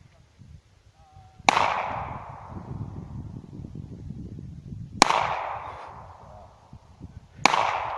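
Three sharp gunshots at shooting practice ring out a few seconds apart, each with a long echoing tail, over a busy outdoor background.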